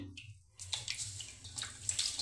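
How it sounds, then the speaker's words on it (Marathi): Water sloshes softly in a vessel as finger millet is washed, a quiet gentle swirl with a brief pause before splashy movements resume near and faint. "परत नवीन पाणी घ्यायचं, भांडं असं हलवायचं हळूहळू आणि आपोआप अशी नागली पुढे सरकत चालते"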